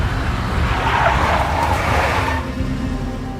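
A big black Mercedes engine in the game Max Payne roars with tires squealing and skidding for a few seconds, loud and close, then the noise eases off.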